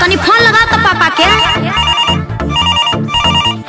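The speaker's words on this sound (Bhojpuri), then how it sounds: "अरे बबुआ तनी फोन लगा तो पापा के" A loud, rhythmic ringtone sounds on a phone call in the middle of a domestic quarrel, with repeating pulsed musical beeps carrying on steadily, and a voice is heard over its opening.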